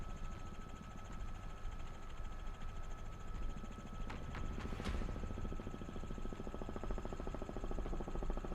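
Robinson R66 helicopter engine in Microsoft Flight Simulator, flying near Bryce Canyon along a river: a steady, continuous rotor and turbine drone holds at moderate level throughout, with a few brief higher clicks midway and no talk.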